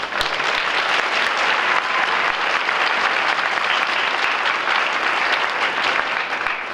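Audience applause at a high school fall choir concert, a loud, dense, continuous clapping from a large crowd that holds steady throughout.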